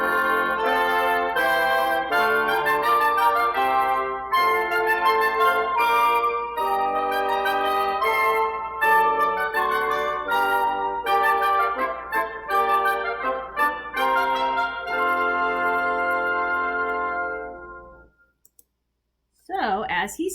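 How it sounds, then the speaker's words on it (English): A woodwind section plays together, several reed and flute lines blending in sustained, moving harmony at steady loudness before it cuts off near the end. "Together, the woodwind section sounds like this."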